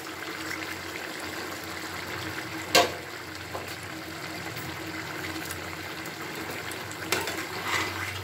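Fried amudi fish simmers uncovered in a vegetable curry, a faint steady bubbling and hiss with a couple of brief clinks from stirring, no voices.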